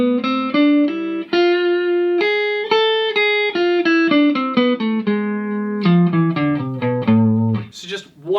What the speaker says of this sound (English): That is your harmonic minor scale.